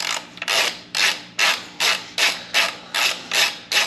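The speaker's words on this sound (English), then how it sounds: "we just got it on our 1/2-inch driver here. And we're just gonna get it into there and crank on it" A 1/2-inch driver cranks out a part during a Super73 10-speed kit install on an RX Mojave e-bike, giving a regular series of about eight loud, even ratcheting bursts close by.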